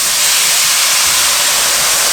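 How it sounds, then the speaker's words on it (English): A pot of liquid boils hard, giving a loud, steady, close hiss with a constant bubbling rush and no break or voice throughout. "and it's boiling right now"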